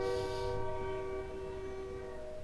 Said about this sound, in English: and that's a train